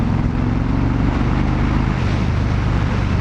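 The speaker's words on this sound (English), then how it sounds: "The thumps are like a machine gun. They're spaced so perfectly apart even when it's idling." An Indian Chief Dark Horse motorcycle engine idles with evenly spaced, rapid-fire thumps, loud and close, holding a steady rhythm throughout with no talk over it.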